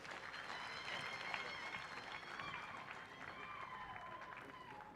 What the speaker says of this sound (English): I think that deserves a bigger round of applause.